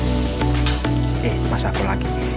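Fried rice with oyster sauce sizzles loudly in a frying pan while being stirred, a steady hiss with scraping strokes that runs throughout, with a voice talking over it.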